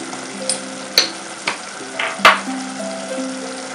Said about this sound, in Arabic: وغادي ندير تحميره